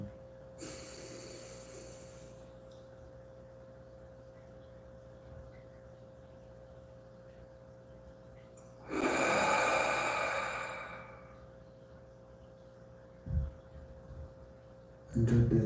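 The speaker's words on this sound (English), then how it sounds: "And just bring your attention to your breathing." Slow, natural meditation breathing: two long, soft, airy breaths spaced several seconds apart over a faint steady hum, with a brief soft puff near the end.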